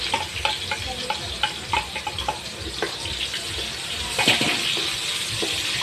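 Garlic and onion hit hot oil in a pan, sizzling and crackling under scattered stirring clatter and utensil knocks, with water running faintly in the background.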